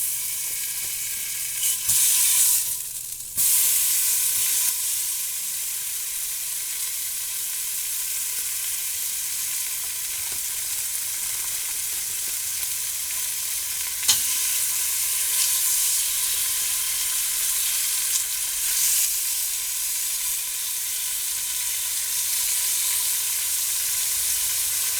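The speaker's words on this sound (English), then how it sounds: "Now we're going to add a couple of pieces of bacon." Bacon pieces fry in a soup pot, making a constant bright crackling sizzle that lasts a long stretch. There are a few faint clicks of handling near the start and no voices.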